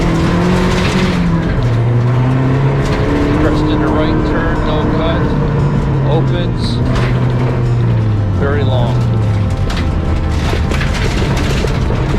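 A rally car races flat out on a gravel rally course during a first-time father-and-son event, its engine loud and close with rising and falling revs as it shifts through turns, gravel crunching beneath, while a co-driver calls pace notes over it.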